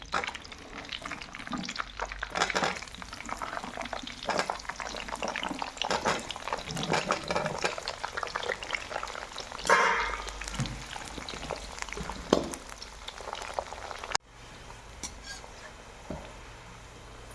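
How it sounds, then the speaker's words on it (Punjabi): Cauliflower fries in hot oil for a mixed fried vegetable sabji, a dense continuous bubbling sizzle with scraping stir strokes, dropping to a quieter hiss near the end. "ਆਪਣੇ ਕੋਲ ਗੋਭੀ ਰਹਿ ਗਈ ਆ ਤੇ ਇਹਨੂੰ ਵੀ ਆਪਾਂ ਹੁਣ ਫਰਾਈ ਕਰ ਲਾਂਗੇ"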